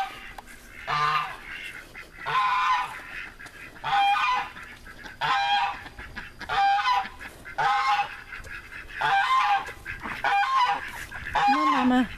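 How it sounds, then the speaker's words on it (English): Hen loose from the flock on a homestead, giving repeated loud honking clucks in a steady rhythm of about seven bursts, close by, with no talk over them. "Looks like I have a chicken out."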